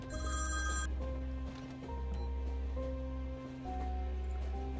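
In the video game Beholder: Conductor, a telephone bell rings in repeated loud bursts separated by short pauses, with a steady low hum underneath.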